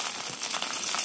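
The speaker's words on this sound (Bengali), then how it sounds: "মাছগুলোকে তেলের মধ্যে খুব ভালো মতো ভেজে নিতে হবে।" Pieces of rui fish frying in hot oil in a wok, a brief close crackling sizzle with fine hissing spatter.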